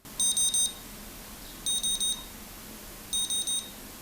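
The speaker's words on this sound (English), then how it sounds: "It's going to beep a few times to let you know it's time to change the battery." Low battery warning from a SOTA Silver Pulser SP7 unit: three bursts of short, high electronic beeps, each burst a quick triple, evenly spaced and loud over a quiet hiss.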